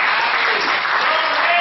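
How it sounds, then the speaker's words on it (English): A church congregation clapping hands together, a dense loud burst of applause lasting under two seconds with no voices over it. "Clap your hands one more time."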